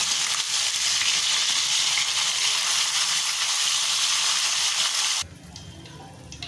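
Rohu fish pieces frying in oil until reddish make a continuous, fairly loud crackling sizzle for about five seconds, then the sound cuts off abruptly to a faint, quieter background, with no voices.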